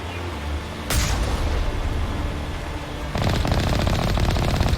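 Rapid automatic gunfire in the video game Mass Effect Legendary Edition: one sharp report, then sustained loud bursts of repeated shots over a noisy, rumbling backdrop.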